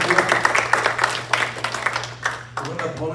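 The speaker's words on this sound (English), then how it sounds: "Won't you give a clap offering to the Lord this evening?" A church congregation at an evening youth service claps together in a lively, uneven burst of applause that runs throughout, with a few voices and cheers mixed in.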